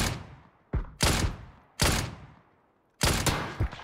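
In the video game PUBG, several loud, sharp gunshots ring out close by at uneven intervals, each cracking hard and then decaying into a brief echo, with one quick double shot near the end.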